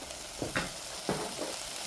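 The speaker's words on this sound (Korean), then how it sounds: "그 기름이 나왔을 때 고춧가루를 넣고 볶는 거예요. 타지 않게 볶습니다." Chili powder is stir-fried in sesame oil and rendered pork fat for kimchi stew: a soft, steady sizzle with a few brief scrapes of stirring, close by and without speech.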